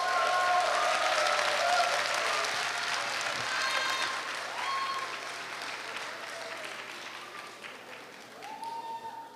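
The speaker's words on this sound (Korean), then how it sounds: "83학번들에게 다시 한번 힘찬 박수 부탁드리겠습니다" At a Korea University alumni choir festival, the crowd applauds after a choir of the class of 1983 performs; dense applause gradually tapers off, with faint tonal sounds and voices rising behind it.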